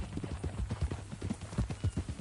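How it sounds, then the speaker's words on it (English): Horse hooves clip-clop steadily in Red Dead Redemption 2, a close, rhythmic trot of hoof strikes sounding alone without talk for a couple of seconds. "That a new horse?"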